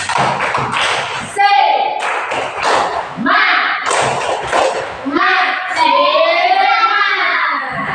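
Schoolchildren in an Indonesian classroom perform a patterned spirit clap, rhythmic bursts of claps and thumps mixed with the children's chanting voices and a teacher speaking, close and lively.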